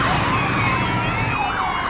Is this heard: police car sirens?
yes